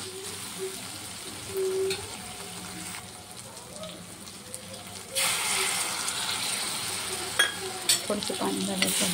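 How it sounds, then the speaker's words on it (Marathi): Coriander being stirred and sautéed in a pan for a rustic Schezwan chutney, with a steady low sizzle and scraping stirs that swell louder in the second half, no talking. "कोथिंबीर सुद्धा छान असं परतवून घ्यायचं आहे मस्त"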